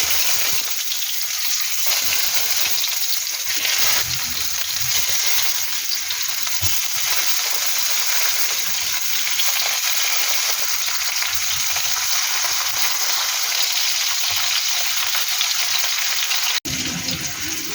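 Food sizzles and fries in hot oil in a heated pan during home cooking, a steady close hiss with faint crackle that runs unbroken and alone throughout.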